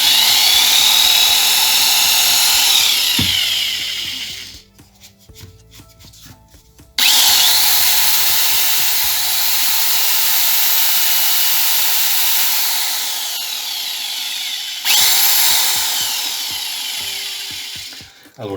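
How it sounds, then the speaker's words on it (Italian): Loud high-pitched electric drill whine, the drill mounted on a lathe tool sharpener, running steadily, stopping briefly with rattles and clicks, then resuming at full speed. "il trapano è montato"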